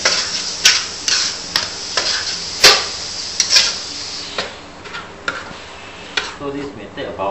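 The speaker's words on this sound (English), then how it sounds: "then we add in the garlic. Okay, then we stir fry again" Garlic is stir-fried in a pan for a Nyonya braised pork dish, with a spatula scraping and clinking against the metal in irregular strokes over a soft steady sizzle, close by.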